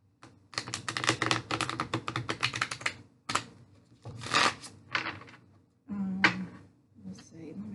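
Tarot cards shuffled and drawn from a deck, with quick crisp riffling bursts and a few separate slaps and slides of cards handled close by, broken by short pauses.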